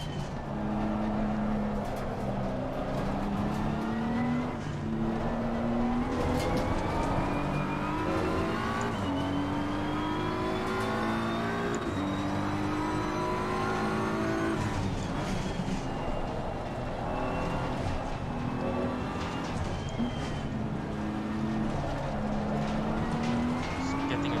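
BMW M4 GT3 race car engine in Assetto Corsa Competizione, loud and continuous, revving up through gears with repeated shifts and brief lifts, close and steady over the whole stretch.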